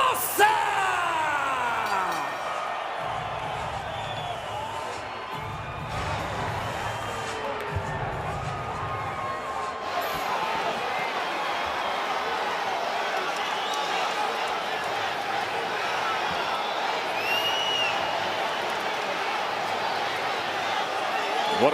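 A packed boxing arena crowd in Phoenix roars and yells in a continuous, dense wash of cheering for a featherweight title fight, with an announcer's voice carrying over the noise.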